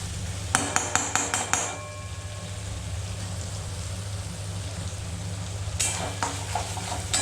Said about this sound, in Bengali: এই যে দেখুন, আমার মোটামুটি তেল বেরিয়ে আসছে, কষাটা আমার বেশ ভালো করে অনেকক্ষণই হয়ে গেছে।